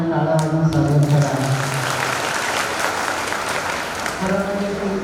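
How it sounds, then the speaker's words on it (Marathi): Devotees at a birthday celebration and discourse gathering at an ashram clap together in welcome, a dense, steady burst of applause filling the whole moment, with a sustained musical tone or voice sounding at the start and again near the end. "त्यांच्या सर्वांनी टाळ्या वाजवून स्वागत करा"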